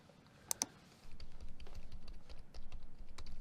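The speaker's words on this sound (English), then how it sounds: "Why are you using a computer from 1981?" Computer keyboard typing in an RPG Maker found-footage horror game: two sharp clicks, then a steady run of rapid keystrokes over a low rumbling background.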